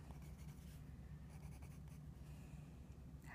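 A colored pencil with a broken tip scratching across paper, a faint, steady, dry scraping close by with slight rhythmic variation and no voices.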